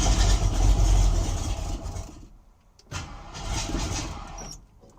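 A junkyard car engine with oily plugs and low-compression cylinders runs roughly, loud and close, its rumble dipping briefly before surging again.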